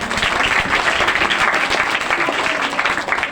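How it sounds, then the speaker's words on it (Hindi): Loud, dense applause from a school annual-day audience for children who created video games, many hands clapping together in a sustained, close, uninterrupted roar. "मैं चाहूँगी कि उन बच्चों के लिए आप तालियां बजाएं"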